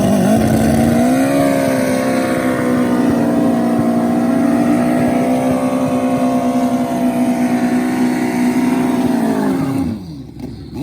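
Turbocharged 1300 cc stock-stroke Suzuki Hayabusa street bikes at a pro street drag race, one loud sustained engine drone holding steady for nearly ten seconds before cutting off sharply.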